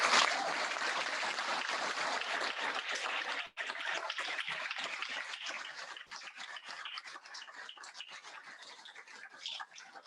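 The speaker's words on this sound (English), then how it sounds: "give one more huge round of applause" An audience at a fourth-degree black belt test applauds steadily for about ten seconds, a dense, continuous wash of many hands clapping that thins slightly toward the end.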